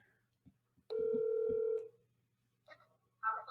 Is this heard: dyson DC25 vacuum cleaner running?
no